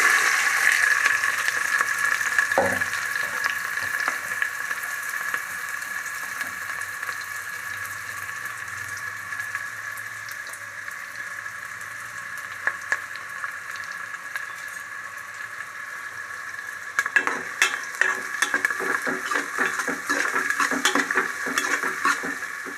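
Green chillies and onions fry in hot oil, giving a continuous sizzle with intermittent stirring and utensil clicks that grow busier toward the end, close and without any talking.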